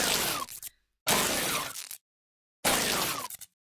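High, bright energy layer of the Doom gauss cannon sound from the video game: three sharp bursts with abrupt silences between, crisp and treble-heavy, with no talk.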